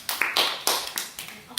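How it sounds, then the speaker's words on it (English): Wedding guests clap for the newly introduced couple, a loose scatter of hand claps with several sharper bursts standing out against general room noise. "Oh, clap your hands together."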